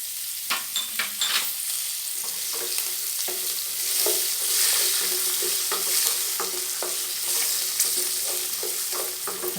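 Peas and green chilies fry and sizzle steadily in a pan, with repeated clinks and scrapes of a spoon stirring through them, close and fairly loud, no voices.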